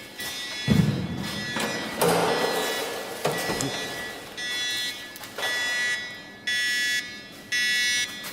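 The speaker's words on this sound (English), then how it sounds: "What's it beeping? This means you're already contaminated." A radiation detector in an abandoned Chernobyl village sounds a series of loud electronic beeps, four evenly spaced tones in the second half, after some earlier thumps and rustling.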